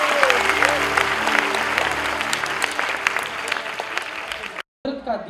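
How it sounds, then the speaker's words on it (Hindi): An audience at the Celebration Children of a Greater God event gives Anupam Kher sustained, dense applause that stops abruptly near the end, with faint voices underneath. "अनुपम खेर जी के लिए जोरदार तालियां होनी चाहिए।"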